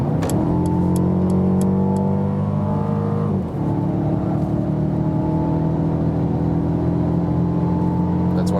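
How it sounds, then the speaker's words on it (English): A Mercedes CLA 250 coupé in sports mode at full throttle from about 100 km/h, its engine note climbing steadily and loudly, briefly dipping at a gear change before pulling hard again, with no voices over it. "Let me drop back to about 100 kilometers and then floor it out again so you can see once more something from the engine."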